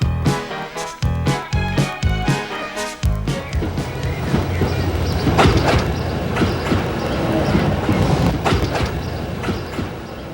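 A train running along a railway in Austria, with a rhythmic clickety-clack of wheels over rail joints at first, then a steady loud rolling rumble and rattle of the carriages.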